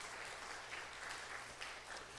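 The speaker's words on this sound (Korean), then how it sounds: "헌신해온 우리 장로님들에게 박수 한번 쳐드립시다" Church congregation applauding its elders during a Sunday afternoon service, a soft, steady wash of clapping heard from a distance at low level, with no talking over it.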